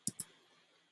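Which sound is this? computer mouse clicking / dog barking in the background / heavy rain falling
computer mouse clicking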